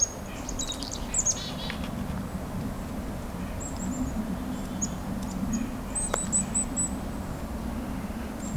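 Chickadees on the ground nearby during a winter Christmas bird count, giving thin, high chirps and short calls scattered over several seconds above a steady outdoor background hiss.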